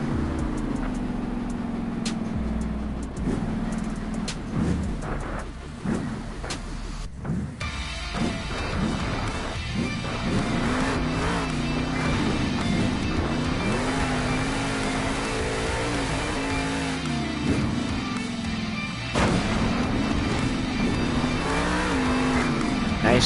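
Monster truck engine roaring and revving hard through a wheelie in an indoor arena at a Monster Jam event in Salt Lake City, with rising and falling throttle bursts over crowd noise and an announcer's voice.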